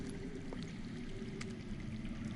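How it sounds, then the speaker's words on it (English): Water flowing underground, heard as a faint, steady rushing and trickling wash in a quiet game scene, continuous and distant with no talk. "That's water. I hear water. From underground."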